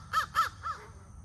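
Three harsh caws from a crow, two loud close calls in quick succession followed by a softer third, with no other sounds around them.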